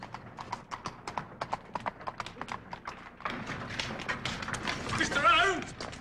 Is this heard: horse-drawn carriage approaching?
yes